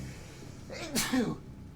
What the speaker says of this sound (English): Another sneeze coming on.